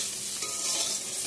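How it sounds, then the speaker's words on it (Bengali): Eggplant fries in a pan with a steady, close hissing sizzle that runs for a short moment, with no talk. "বেগুনটা ভাজা করে নিচ্ছি"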